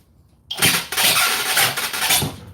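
A Milwaukee or Flex power drill kicks on in speed 1, bursting into a loud, close, high-torque whine that holds for about two seconds with slight surges, no talk.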